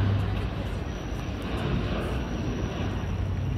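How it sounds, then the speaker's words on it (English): A passenger plane lands at Toronto's island airport on a flight from Ottawa, its engines a steady broad roar heard from a moderate distance across open harbourfront, continuous with no breaks. "This one's just coming in from Ottawa right now. It's landing on the island airport."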